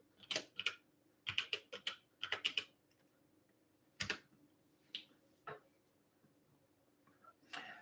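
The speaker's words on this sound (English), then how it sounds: "let me type that in" Typing on a computer keyboard, heard as several quick bursts of keystrokes with short pauses and then a few isolated taps, close and fairly quiet, with no one talking.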